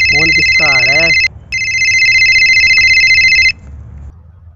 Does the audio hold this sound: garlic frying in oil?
no